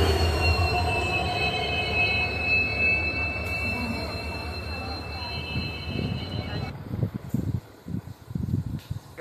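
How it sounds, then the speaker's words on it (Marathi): At Dadar station in Mumbai, a train arrives with loud, sustained high-pitched wheel squeal over rumbling rail noise. The squeal cuts off near the end, leaving the low clatter of the cars. "आमची ट्रेन आलेली आहे."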